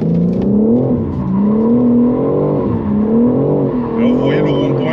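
A BMW M4 G82 Competition drifting through a roundabout, its engine holding a loud, steady rising and falling drone throughout, with tire noise creeping in near the end.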